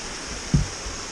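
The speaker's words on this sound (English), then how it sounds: "I'm really enjoying the views and seeing this wonderful cascading waterfall." Cascading waterfall beside a stream on the Appalachian Trail, heard as a steady broadband rush with one low thump near the middle.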